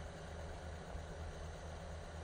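A high-horsepower tractor engine in Farming Simulator 2015 hums at a faint, steady idle, a low continuous drone with no breaks.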